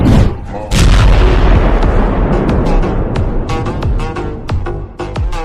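A loud explosion-like boom in an animated horror story, a heavy blast followed by a dense rumbling, crackling wash with sharp bursts and pops throughout.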